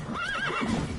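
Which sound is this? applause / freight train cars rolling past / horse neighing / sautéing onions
horse neighing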